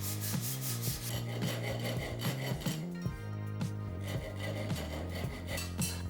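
A rasp files a bamboo bow riser with repeated scraping strokes of wood rubbing, set against steady background music.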